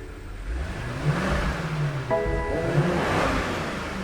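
A BMW M5 F90 engine fires up and revs, a close mid-range roar swelling and settling, with a brief electronic chime partway through.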